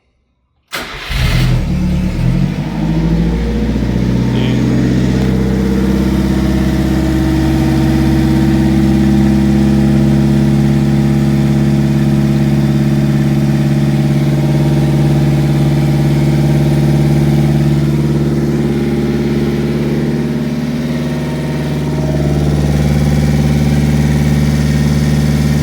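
A Subaru Sambar engine cranks, catches and settles into a steady, loud, fast cold idle that holds evenly for a long stretch with no voices.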